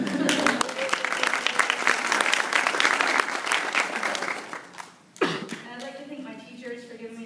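An audience at a research presentation applauds loudly and steadily for several seconds. The clapping fades out abruptly and a voice begins speaking.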